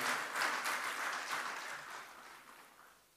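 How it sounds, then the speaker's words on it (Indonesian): Audience applause at a formal Indonesian event after praise for President Joko Widodo, a dense crowd clapping that holds steady and then slowly fades out. "Tepuk tangan untuk beliau."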